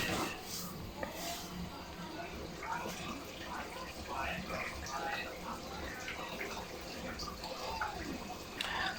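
A 16kg Whirlpool washing machine fills with water during a wash. The splashing and trickling are steady and moderately loud, with a faint voice underneath.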